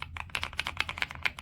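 Rapid, even typing on a Kisnt wireless gasket-mounted mechanical keyboard with a creamy sound: a quick run of subdued, close keystrokes clicking alone at a low level.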